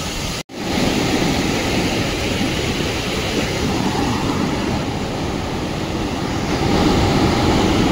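Rupse waterfall in the hills of Nepal makes a loud, dense, steady roar of rushing water close by, with no voices, after a brief dropout at the start.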